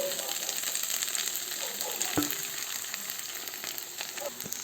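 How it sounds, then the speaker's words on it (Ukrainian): Purslane frying in a pan crackles and sizzles steadily as beaten egg is poured over it, with a few louder pops and light stirring scrapes and no one talking. "Підсмажили дві хвилинки і заливаємо це все яйцем."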